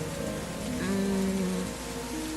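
Steady rain pours down outdoors, a dense continuous hiss with no talk, holding even through the clip with a faint tonal hum partway.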